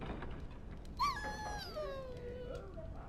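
A dog in a video game whimpers once, a thin, high, whining cry that slides downward over a couple of seconds. It sits quietly over a soft, muffled game background.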